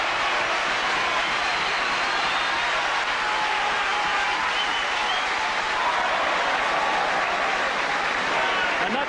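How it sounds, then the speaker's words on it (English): A rugby crowd applauds and cheers as the Swansea team runs out to face the All Blacks, a dense, loud, sustained roar of clapping filling the whole stretch. "that reception from the crowd leaves them in no doubt that they're the favourites here"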